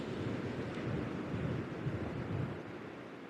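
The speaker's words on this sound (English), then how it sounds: "It is very windy," Strong wind buffets a microphone outdoors by the sea, a loud continuous low rumble with surf mixed in, steady throughout with no talking.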